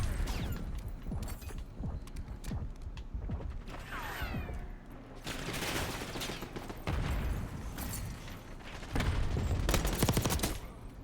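Video game gunfire from a Grekhova pistol, rapid sharp shots in bursts with mechanical clicks and other battle noises, loud and close throughout.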